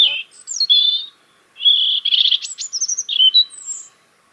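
A European robin sings close by in bursts of high, thin, warbling phrases with short pauses between them, clear and alone with no other sounds behind.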